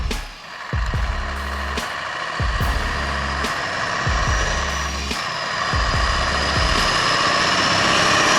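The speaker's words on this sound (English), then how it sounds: "The deep roar of the engine echoed like thunder." A heavy tractor-trailer truck engine roars loudly and steadily up close, a deep continuous drone with rhythmic low-end pulses and surges.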